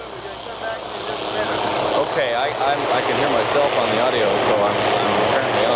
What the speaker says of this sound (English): Helicopter noise is fairly loud.